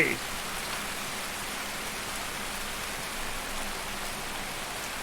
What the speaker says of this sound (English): it's raining, so I can't really hear myself talk